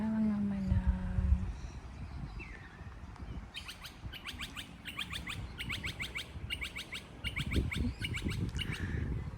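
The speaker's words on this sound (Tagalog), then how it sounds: "Mga ibon lang ang maririnig mo dito" Birds chirp in a quiet Australian neighbourhood, with repeated bright trilled bursts through the second half over a low background rumble and faint distant noise.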